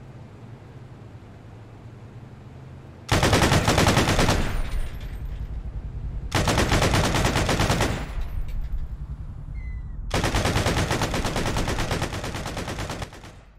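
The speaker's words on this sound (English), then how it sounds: "Stop shooting, stop shooting, pull back." Automatic gunfire in ARMA 3 comes in three long, loud sustained bursts, each a few seconds of rapid continuous shots separated by short pauses over a low rumbling background.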